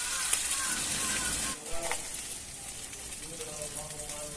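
Ginger-cumin paste with turmeric sizzles and fries steadily in a pan while cooking a cauliflower dal, a soft continuous hiss with a brief dip midway, no talk over it.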